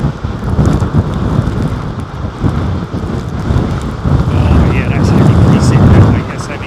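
Gusty wind buffeting a microphone outdoors at London Heathrow Airport, a steady loud rumble that swells and surges, strongest near the end, with no clear speech.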